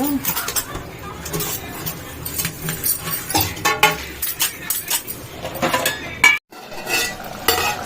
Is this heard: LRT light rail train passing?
no